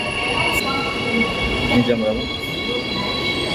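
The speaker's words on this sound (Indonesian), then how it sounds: "Oke, kereta berikutnya datang." An LRT Jakarta light rail train pulls in with a steady rolling roar and high metallic wheel squeals, loud and close, while a person speaks briefly over it.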